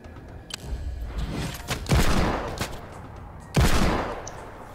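Rifle shots ring out in a Fortnite match, several booming cracks spaced apart, two of them heavy and close with long rolling tails, under a busy game background.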